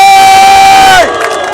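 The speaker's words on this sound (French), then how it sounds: "on peut l'applaudir" A crowd at an outdoor puppet show during the Aurillac street festival cheers and shouts loudly for the witch puppet, a sustained whistle-like tone ringing above before the noise drops to a lower crowd murmur.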